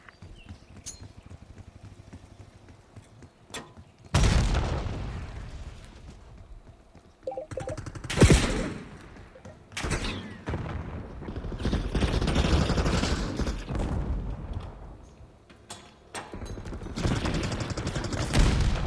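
Gunfire and explosions in Call of Duty Black Ops 6 multiplayer: dense loud bursts of shots and blasts in irregular waves, separated by quieter stretches.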